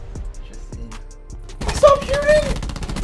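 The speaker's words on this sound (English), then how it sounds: "Stop shooting!" Gunfire in a first-person shooter video game: a few sharp, close shots, then a dense, loud burst of rapid fire mixed with game effects and a voice talking over it.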